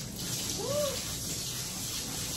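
Warm tap water at about 90 degrees flows continuously while a Havanese is bathed, a steady close hiss of spray with a brief faint squeaky chirp partway through.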